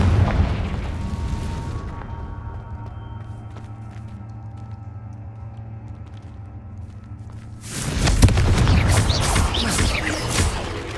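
A Confringo blasting spell goes off in a Harry Potter video game: a loud broadband burst opens, a low rumbling game ambience with scattered clicks follows, then a second heavy blast and crackling roar closes it.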